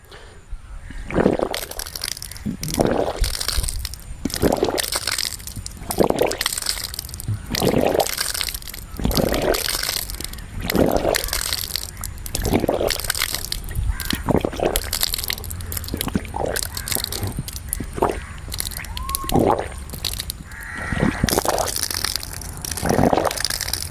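Water is forcefully expelled from the stomach during Kunjal Kriya yoga cleansing, in a series of repeated splashing, gushing bursts, roughly one every second or two, with gurgling in between.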